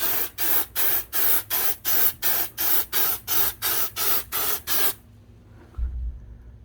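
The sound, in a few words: aerosol can spraying a heavy coat on an RV skylight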